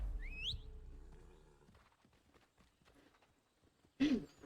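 Horse hooves clip-clop faintly in Assassin's Creed III as a series of soft, uneven steps, preceded by a high whinny-like call and ending in a louder burst.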